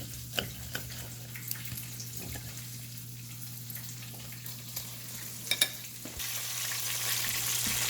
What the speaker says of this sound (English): the chicken has been frying